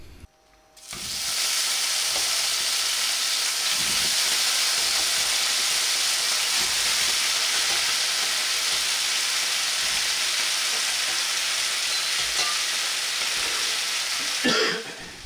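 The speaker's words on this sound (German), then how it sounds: "in die Pfanne geben wir dann den Rosenkohl hinzu. So einen angebratenen Rosenkohl" Brussels sprouts frying in a hot pan, a loud, continuous sizzle that starts abruptly and holds steady with faint stirring clicks until it briefly flares near the end.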